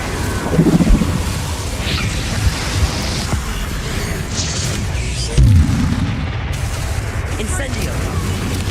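An Incendio spell blast from Hogwarts Legacy: a dense, roaring wash of fiery rumble running throughout, with a heavier low boom landing near the middle.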